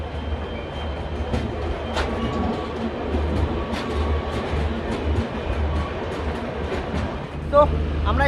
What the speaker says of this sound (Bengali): ট্রেনের ডিপার্চার